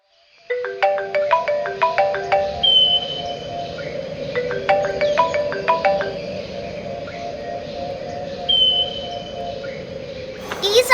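A mobile phone ringtone plays a repeating melodic pattern in two bursts, loud and close, over low background hum, with a brief talking voice.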